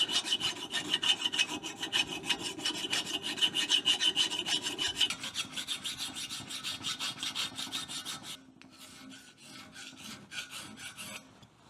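A hand file rasps steadily across a metal cooling fin on a Triumph Tiger Cub motorcycle, the repeated strokes loud and close for about eight seconds, then a softer, thinner scraping continues alone.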